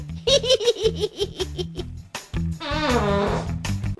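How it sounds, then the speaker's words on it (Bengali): A cartoon fart sound effect bursts out as a long, loud, rasping blast, preceded and partly overlapped by quick bouts of giggling laughter. "পাদের বিস্ফোরণে যে উড়ে গেলাম"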